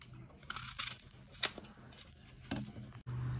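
An apple is cut for a fruit custard dessert, giving a few soft, crisp knife slices and clicks at close range over a low hum, with no talking.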